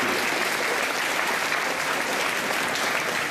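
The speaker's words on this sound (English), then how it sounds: "a round of applause, please" Steady audience applause fills a school opening assembly, a dense, even wash of many hands clapping at constant loudness from start to finish, with no voices standing out.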